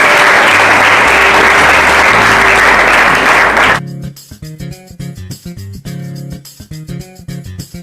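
Loud, dense applause from a church congregation fills the first four seconds, then cuts off and gives way to music with a steady beat.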